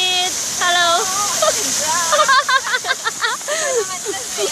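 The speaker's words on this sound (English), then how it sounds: "This is a waterfall in Shatin." A waterfall in Shatin, Hong Kong, pours as a constant hissing rush, while a child and an adult talk over it at close range.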